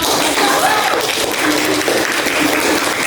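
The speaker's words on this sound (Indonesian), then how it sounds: "kalau tidak ada kita beri aplaus untuk kelompok" A classroom gives a student group a round of applause, with steady, dense clapping from many hands close by throughout.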